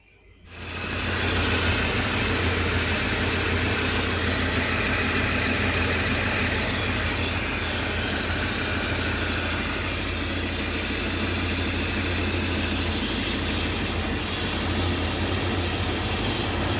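A 1987 Porsche 928 S4 engine idles, close-miked in the engine compartment: after a brief quiet start, a loud, steady, even rumble with a faint whine holds unchanged to the end.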